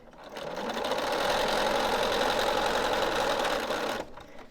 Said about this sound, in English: I'm going to stitch from this to this.